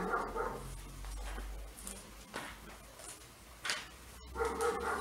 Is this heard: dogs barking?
yes